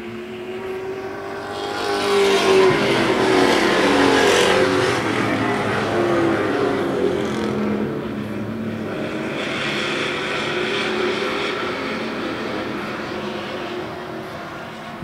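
Race cars competing on a track, a loud engine roar that swells, peaks and fades as cars pass, followed by a second approaching wave of engine noise, sustained throughout.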